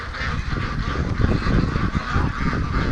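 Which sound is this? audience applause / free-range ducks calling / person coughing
free-range ducks calling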